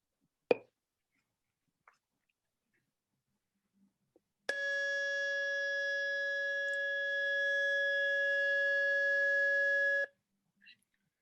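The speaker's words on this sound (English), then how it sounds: "that's the evacuation siren" A loud, steady electronic LRAD evacuation siren tone holds for about six seconds after a couple of brief clicks, then cuts off abruptly.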